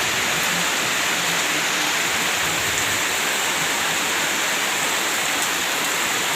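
Heavy daytime rain pours down on a village in Simeulue, Aceh, as a steady, dense, loud hiss of water runs evenly through the whole stretch, with no voices.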